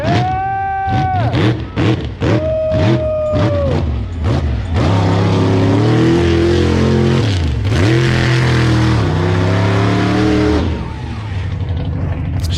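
The Thunder Chicken monster truck at a Monster Truck Nitro Tour 2022 event in Tulare, its engine revving in repeated rising bursts during slap wheelies, then holding a long roaring run, loud and close amid crowd noise.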